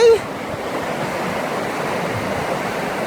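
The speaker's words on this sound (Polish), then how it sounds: "Słyszycie szum tej biegnącej wody?" Steady broadband rushing of running water in a small town, continuous and fairly loud throughout, with no voices over it.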